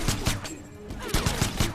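Jacqui Briggs lets off full-auto gunfire in Mortal Kombat X, a quick run of sharp repeated shots in a short, loud rhythmic burst.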